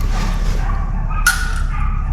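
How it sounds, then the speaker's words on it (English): A dog barks in short, sharp yaps at a middling distance outside a workshop where a John Deere 3130 tractor engine is being stripped down, over a steady background hum. "That dog you can hear barking is actually quite a funny story"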